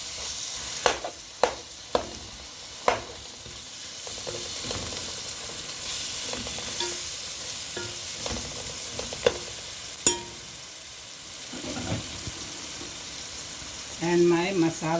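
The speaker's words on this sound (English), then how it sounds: "And my masala. I'll stir it." Ginger, garlic and masala frying in a pot, a soft steady sizzle with repeated sharp clicks and scrapes of a spoon stirring against the metal, and a brief voice near the end.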